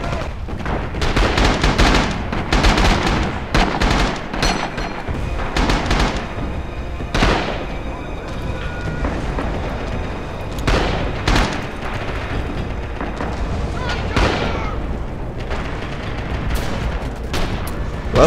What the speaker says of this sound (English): I think my grenade blew someone up. Or maybe it was some guy's artillery.